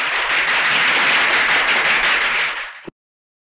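An audience applauds loudly at a prize announcement, with thick continuous clapping that tapers slightly near the end and then stops dead, leaving silence.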